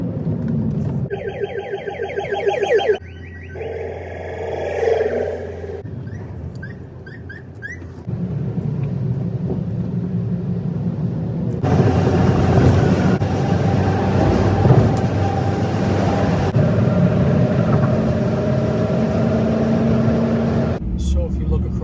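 Car driving along a road, a steady engine and road rumble that grows louder and fuller partway through, with a voice talking over part of it and other tonal sounds early on.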